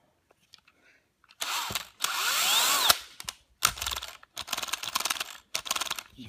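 A Panasonic EY7950 18V cordless drill runs in hammer drill mode, starting in short, loud, buzzing bursts of rattling mechanism. Several stop-start runs of different lengths are heard close up, with no talk.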